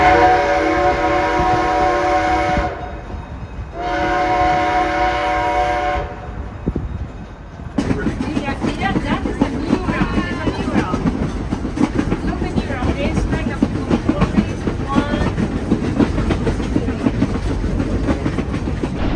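A tourist train runs along its tracks through a scenic route with close clearances past rocks and trees; a steady, loud rumble and clickety-clack of wheels on rail fills the clip, preceded by two long sustained horn-like tones.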